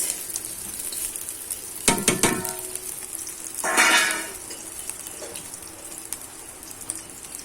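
Chopped onions hit hot oil in a pan while pulao rice is being prepared, giving a sharp crackling sizzle that swells twice, first briefly and then in a louder, longer burst, over low kitchen background noise.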